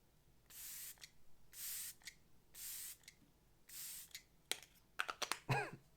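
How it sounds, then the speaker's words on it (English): Excel setting spray from the Lisa Eldridge Seamless Skin Collection is misted onto a face in four close, even hisses about a second apart, followed by a few sharp clicks and rustles. "allow me now to spray on the other side of my face"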